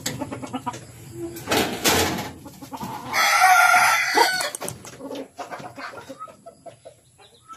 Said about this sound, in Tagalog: Ito naman yung mga manok natin, Shamu.